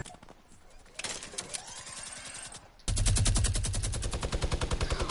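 Gunfire in a PS4 shooter video game: sparse shots give way to sustained rapid automatic bursts, loud and dense, with a brief mechanical sweep between them.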